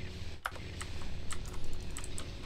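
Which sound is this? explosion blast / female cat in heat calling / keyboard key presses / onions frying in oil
keyboard key presses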